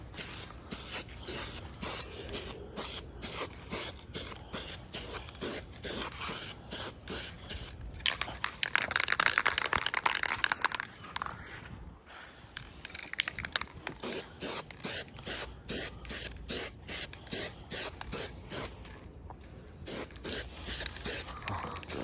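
Short repeated hisses of spray paint laying a light white coat on an engine block, close and rhythmic, with one longer continuous spray in the middle.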